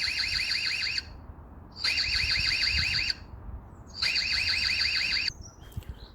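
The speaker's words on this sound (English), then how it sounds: "Alarm, you can listen to that." A piercing electronic alarm from an EZVIZ C8c security camera warbles in three repeated bursts of about a second each, separated by short pauses of quiet.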